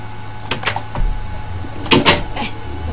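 A wooden door in Minecraft opens and closes in two quick pairs of sharp, close clicks, one pair early and another a moment later.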